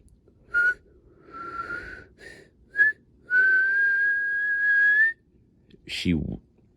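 Someone whistles a train-whistle imitation: several short toots, then a long steady tone, followed by a brief noisy burst at the end.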